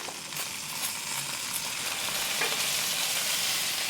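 Jack Daniels whiskey strip steak searing on a BlackStone griddle, a loud, steady, close sizzle crackling evenly throughout with no voices.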